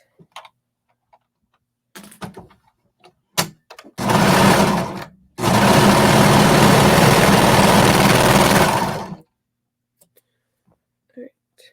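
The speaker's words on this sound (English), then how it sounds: "we're just going to sew right along that little edge there to attach those two front pieces together" A sewing machine stitches the front pieces of a lace bralette along a 3/8 seam in two loud, close bursts of rapid whirring, a short run and then a longer steady one, with small handling clicks and taps before and after.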